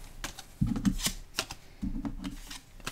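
Poker cards for the Tiny Epic Western board game being shuffled by hand, two quick riffling bursts, close and soft, alongside a few light taps and clicks.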